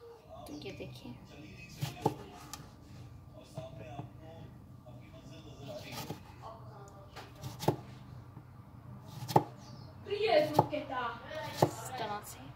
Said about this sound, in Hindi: इस तरह से काट लेंगे।